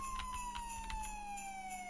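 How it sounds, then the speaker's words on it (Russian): Police car siren in the Killer in Purple 2 video game, a steady tone that slowly falls in pitch, heard alone over a constant low hum. "А фары. Сирена."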